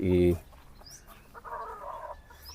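A chicken gives a loud, short cluck at the start, then softer clucking and chatter from birds further off.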